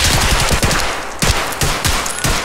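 Rapid machine-gun bursts in the Escape From Tarkov video game, loud and close, with several sharp volleys of shots in quick rhythm.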